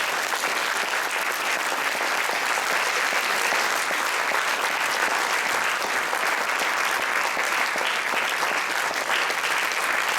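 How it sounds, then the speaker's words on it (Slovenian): Loud, dense audience applause rolls on without a break for about ten seconds, honoring the solo and duet performers of a dance competition. "Dajmo še en velik aplavz za vse nastopajoče"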